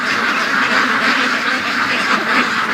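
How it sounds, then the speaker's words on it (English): A group of ducks, including a green-headed Dalmatian drake, quack continuously at a lake in the morning, a dense, steady chorus of overlapping calls close by with no talking. "We have a bunch of ducks that decided to stay at the lake last night."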